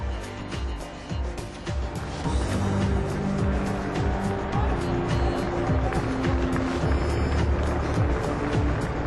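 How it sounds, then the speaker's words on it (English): A Melbourne red BMW 328i 3 Series drives out, its engine a steady, loud roar. Crowd noise and a tire-squeal-like hiss fill the space around it, with rising and falling engine pitch throughout. "this one is a 328i in Melbourne red, as it comes out with"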